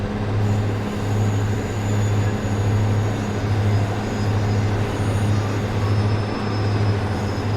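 A British Rail Class 158 diesel train rumbles past in the video game Train Sim World 6, a loud steady low engine drone with a rhythmic pulsing throb over a constant rolling roar.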